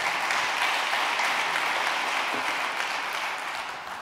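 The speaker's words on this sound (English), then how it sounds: "please, you're welcome to applaud for him while he goes." Steady, dense applause from an audience at the ISA² mid-term conference, loud and continuous for several seconds before tapering slightly at the end, with no talking.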